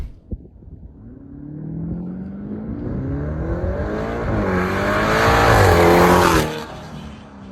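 A Mansory Venatus Lamborghini Urus coupe pulls away and accelerates hard, its loud engine climbing through several rising gear sweeps before cutting off abruptly near the end.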